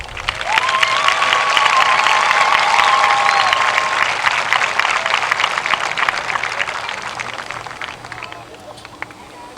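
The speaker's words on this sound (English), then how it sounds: "Please join me in giving our staff a round of applause" Audience applause for school staff at a high school graduation ceremony, a loud dense wash of clapping and cheering from a large crowd that swells early and tapers off slowly, with a faint whistle near the start.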